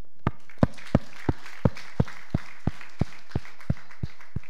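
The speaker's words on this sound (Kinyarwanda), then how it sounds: "Mubampera amashyi" Crowd applause at a school graduation ceremony in Gikondo, heard as about a dozen sharp, evenly spaced claps in slow unison rhythm, fairly faint and with no other sound between them.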